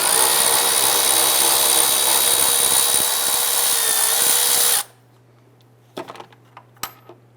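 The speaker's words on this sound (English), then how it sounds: "Using our 10mm socket, we're going to go ahead and loosen and remove this bolt." Power tool driving a 10mm socket to loosen a bolt on a 2005-2010 Chrysler 300, a loud steady whirring buzz lasting several seconds that stops abruptly, followed by a few faint clinks.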